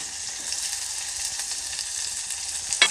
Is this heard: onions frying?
yes